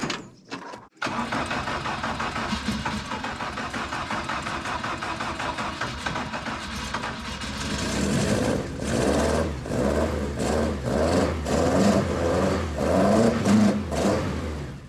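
A Ford Escort MK3 engine is started after sitting a long while. A brief crank catches, then the engine settles into a steady, loud, close idle that gets rougher and more pulsing toward the end.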